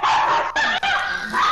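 Dog barking loudly and close in short repeated yaps and whimpering bursts, steady through the moment with two brief gaps.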